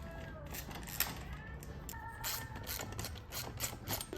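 Ratchet working 10mm bolts loose from the cylinder head of a small Honda Spree scooter engine, a quiet run of quick clicking pawl strokes with a few metallic clanks, fairly close and low in level.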